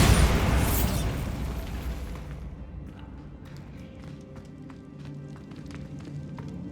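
Bombarda spell explosion in Hogwarts Legacy: a loud, broad blast bursts out at the start and decays over about two seconds into a rumbling tail, followed by scattered small crackles and debris sounds.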